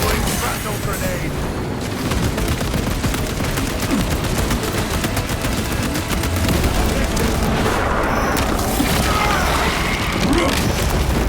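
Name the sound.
grenade explosion in Warhammer 40k Space Marine 2 video game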